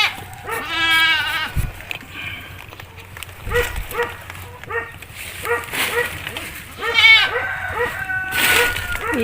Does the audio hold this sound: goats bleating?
yes